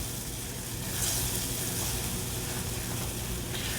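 Eggs cooking in melting butter in a pan give off a steady, soft sizzle with a faint hiss that holds evenly throughout, with no talking.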